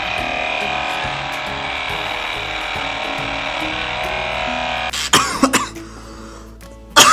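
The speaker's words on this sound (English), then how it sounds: "I coughed on my own hair." A steady electric beard trimmer buzzes for several seconds, then cuts off as a person gives a few sharp coughs and clears their throat close by.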